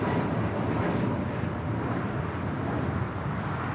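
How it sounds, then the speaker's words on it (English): An Air Canada Boeing 787-8 Dreamliner touches down on the south side runway at LAX, heard as a steady, distant roar of jet engine and rushing air filling the whole stretch. "Air Canada Dreamliner just touching down here on the south side"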